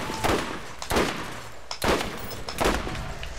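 Gunfire in the video game Borderlands, four heavy booming shots spaced roughly evenly, loud and close with echoing tails.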